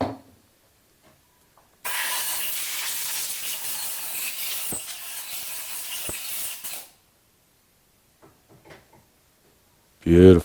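A can of contact cleaner sprays in one continuous hissing burst lasting about five seconds, during work on a Ducati 4V cylinder head, with quiet handling clicks afterward and a brief voice at the end.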